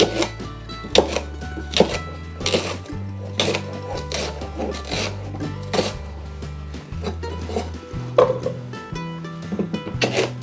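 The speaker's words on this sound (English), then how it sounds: "now I'm going to chop them up and throw them in the pan" A knife chops rhubarb stalks on a cutting board, crisp repeated thunks in an uneven rhythm, close and clear, over faint background music.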